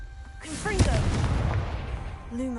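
A Confringo blasting spell goes off in Hogwarts Legacy, a sharp magical blast near the start followed by a rumbling crackle that lingers and fades, with a voice calling out and whooshing spell effects layered over it.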